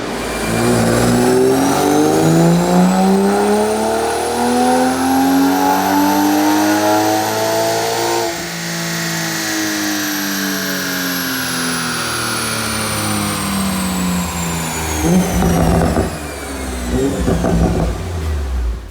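A Toyota Supra with a stage 2 tune is run on a dyno, the engine roaring as it climbs steadily through the gears in one long loud pull, then easing off near the end.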